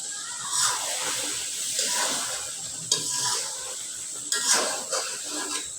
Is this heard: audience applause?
no